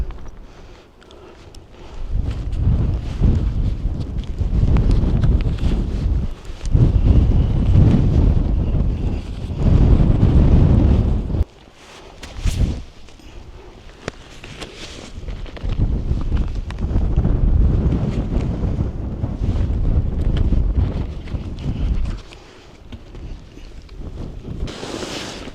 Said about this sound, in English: although it's still a bit windy down here